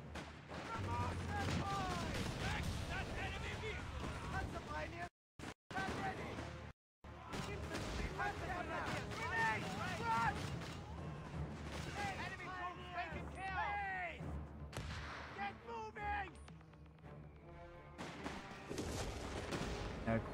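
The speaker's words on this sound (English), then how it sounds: "Of course they got artillery" Artillery fire and battle noise from Company of Heroes 3 in a North African campaign: dense, continuous blasts and gunfire rumbling throughout, with a couple of brief dropouts, while a voice talks over the combat.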